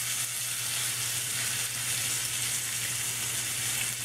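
A steak sizzles steadily in a hot pan as it is turned, giving an even, hissing fry with a low hum beneath and no talking.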